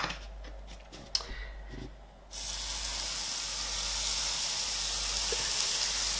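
Butter hitting a very hot waffle iron gives a sudden loud, steady sizzle that starts partway in and carries on evenly to the end, following a few faint clicks and handling sounds.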